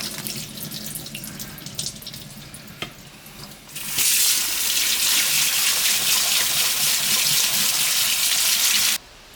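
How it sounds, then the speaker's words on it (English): Canned kidney beans draining in a kitchen sink, a steady loud rush of running water that starts abruptly after some quieter clatter and stops sharply near the end. "I'll just drain off the kidney beans as well while I'm doing this"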